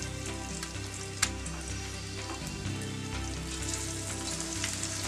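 Egg chilli pieces fry in hot oil for a Kerala-style thattukada dish, giving a steady, close crackling sizzle throughout with one sharp pop near the start and no talk.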